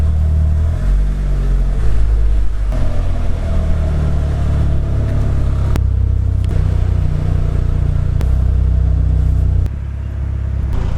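A Mitsubishi Evo IV driving through a residential neighborhood, its engine droning low and loud from inside the car, with shifts in pitch as it accelerates and a few sharp clicks over the steady rumble.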